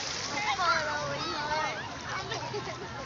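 Bathers splashing in the sea at a busy beach, a faint watery wash with children's voices and chatter carrying over the top.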